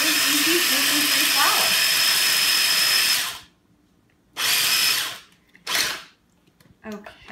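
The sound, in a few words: grinding oats into gluten-free flour with a machine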